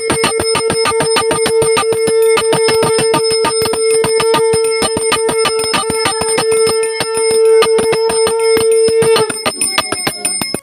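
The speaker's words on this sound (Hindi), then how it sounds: "विजय सार की आवाज़ और ढोल की आवाज़ अपना भी आ रही है" Loud, fast metallic clanging from a vijay saar, a brass percussion instrument, at a Sem Devta jagar ritual in an Uttarakhand village, ringing close in a rapid, steady stream. The dhol drum is not clearly picked out.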